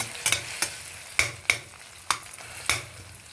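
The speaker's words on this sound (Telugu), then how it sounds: "ఇగో ఉల్లిపాయలు వేగాయి." Onions fry in a pan while a utensil stirs them, giving several sharp scraping clacks at irregular intervals over a soft, steady sizzle.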